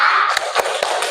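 A classroom of students clapping a rhythmic focus routine (tepuk fokus) during an ice-breaker: three sharp, evenly spaced claps ring out close and fairly loud over a soft background hiss, with no talking.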